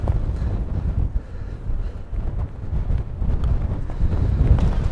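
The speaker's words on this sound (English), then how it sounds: "That wind is brutal." Strong wind buffets the microphone on an exposed golf course at Fraserburgh, Aberdeenshire, a loud, continuous gusting rumble that rises and falls with no talk.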